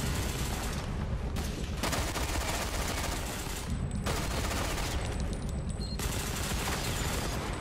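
Sustained automatic gunfire from an online shooter, Ghost Recon Phantoms, on the Tomsk-9 map, with dense rapid bursts filling the whole stretch, loud and close, with brief gaps between volleys.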